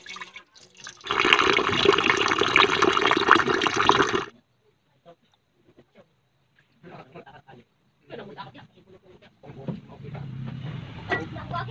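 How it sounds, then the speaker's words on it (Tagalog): Water poured from a container onto uncooked rice in a pot to make rice wine, a loud splashing pour lasting about three seconds, followed by quieter handling clatter and a low rumble near the end. "lalagyan na natin ng tubig"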